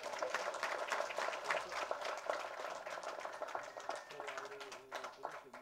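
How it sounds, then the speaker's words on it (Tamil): An audience at a film press meet claps steadily in a dense, moderately loud patter, with faint tones and a little background murmur beneath the applause. "இன்னும் நல்லா கைத்தட்டுங்க ப்ளீஸ்"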